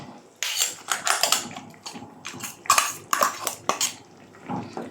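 A spoon scrapes and clinks against a cooking pot as ground coconut paste is stirred into pumpkin erissery, producing a series of close metallic knocks and scrapes of varying loudness.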